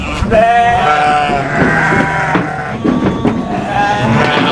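Sheep bleat repeatedly on a farm while being fed rice dust mixed with sugar water for the first time. Several loud, wavering bleats overlap closely over busy background noise, with no talking.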